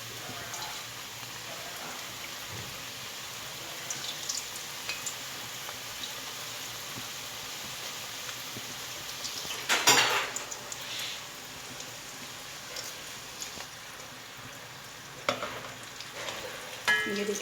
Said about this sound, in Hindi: अब मैं इनको फ्राई कर लूँगी।